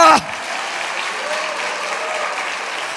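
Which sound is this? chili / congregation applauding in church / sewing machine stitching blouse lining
congregation applauding in church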